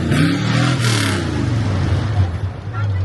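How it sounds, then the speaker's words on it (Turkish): A classic 1951 Opel Olympia engine revs loudly close by at a classic car club gathering, a deep throaty exhaust roar rising and settling, with voices faintly mixed in. "Neredeyse birer dinozor kükremesi gibi egzoz sesleri."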